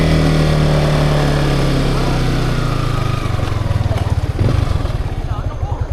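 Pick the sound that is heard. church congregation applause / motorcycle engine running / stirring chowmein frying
motorcycle engine running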